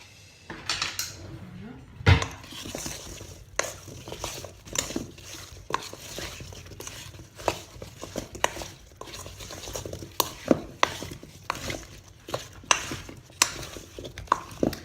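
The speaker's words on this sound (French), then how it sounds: "Voilà, et du persil et du coriandre que je vais mélanger." Spices, parsley and coriander are stirred together in a bowl with a utensil, making repeated close clinks and scrapes against the bowl in an irregular rhythm, with a voice talking intermittently.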